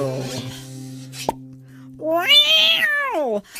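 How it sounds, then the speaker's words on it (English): A drawn-out cat meow rises and falls in a comic Christmas country song, following a few sustained musical tones and a soft plop, clear and up front. "The vet just called us back again, he's pulled the cat from Carl's rear end"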